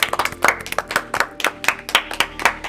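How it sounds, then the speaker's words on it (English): Clapping for graduated seniors Simeon and Courtney, a few people's hands striking sharply and close in a quick, uneven rhythm of separate claps rather than a dense roar, with no talk over it. "put your hands together for Simeon and Courtney."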